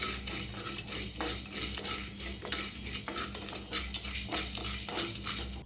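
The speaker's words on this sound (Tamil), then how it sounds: "ஜீரகம், கடுகு இதெல்லாம் சேர்த்து நல்லா வறுத்துக்கலாம்." Cumin and mustard seeds dry-roasting in a pan, with continuous close scraping and stirring of a utensil against metal and a faint crackle beneath, no voices.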